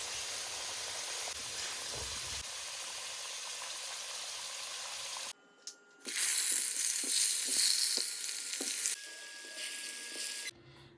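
Steady, close sizzling of lamb frying in oil in a kazan, broken by brief pauses and louder bursts of crackling hiss as pieces are moved or turned.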